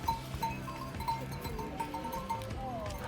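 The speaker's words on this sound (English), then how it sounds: "what trek would be complete without being ambushed by goats" Goats bleating on a Himalayan trek: faint, repeated high calls over soft outdoor rumble and murmur, with a longer wavering bleat near the end.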